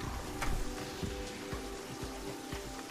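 Rain falls steadily in the video game Terraria, a soft hiss with scattered droplet ticks and patters, faint and even throughout.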